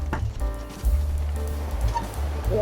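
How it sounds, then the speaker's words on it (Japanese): Heavy rain falls on an old Japanese farmhouse during a toilet renovation, a loud, steady close hiss with low rumbling and a faint tonal hum underneath. "お、すごい雨になってきた。"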